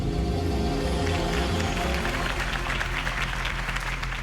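Crowd applause at a Harvey Dent campaign rally in Batman: The Telltale Series, rising over a low musical drone and building into bright, dense clapping toward the end.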